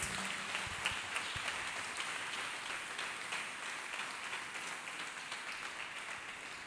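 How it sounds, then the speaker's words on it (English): Church congregation claps hands in a continuous, fairly faint wash of applause that carries evenly from start to finish. "Clap hands for Jesus Christ."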